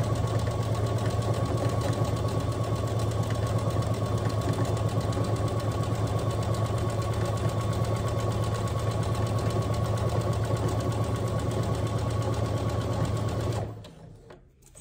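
A sewing machine hums loudly and continuously as it stitches a 1/4-inch seam on a drawstring backpack, a steady mechanical drone that cuts off abruptly just before the end.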